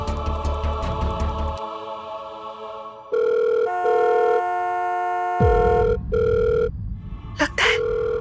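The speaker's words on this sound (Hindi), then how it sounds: "फोन क्यों नहीं उठा रही है" A telephone rings repeatedly through a handset, with ringback tones and electronic beeps in a steady pattern, then goes unanswered.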